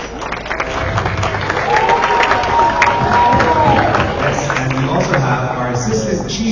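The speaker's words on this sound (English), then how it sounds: "Let's give him a round of applause." A school crowd at a high school outreach event gives a loud, sustained round of applause with cheering for the Attorney General of Guam, dense clapping and whoops that continue throughout.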